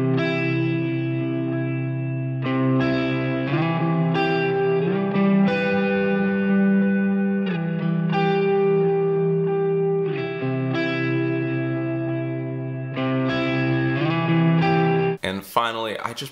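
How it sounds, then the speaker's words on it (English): An electric guitar plays through a Boss Katana amp with reverb stacked on, sustained chords and notes ringing out with a washy tail, loud and continuous, ending in a sharp scrape. "I stacked on a little bit of reverb with everything and just wanted to see what that would sound like."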